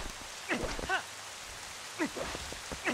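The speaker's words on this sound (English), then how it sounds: "I like the atmosphere of the rain and the nothing" Steady rain falls in The Legend of Zelda: Twilight Princess, a soft even patter with a few brief voice-like chirps rising over it.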